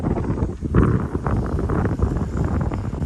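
Wind buffeting a microphone, a loud low rumble with gusty fluctuations throughout and no speech.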